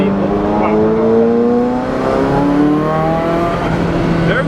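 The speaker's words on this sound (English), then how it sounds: "There go the turbos." Turbocharged Ferrari F40 engine accelerating hard through its 5-speed gearbox, rising whine of spooling turbos climbing in pitch over a steady loud roar, with people talking in the cabin.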